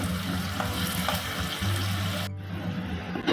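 Water splashes into a hot pan of frying potatoes and flat beans, a loud steady sizzle that cuts off abruptly as a lid goes on, leaving a quieter hiss.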